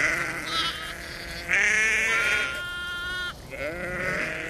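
Ancient primitive sheep bleat in a prehistoric-style British farming scene, several wavering, nasal calls overlapping one after another, close and fairly loud over a soft outdoor background with no talk.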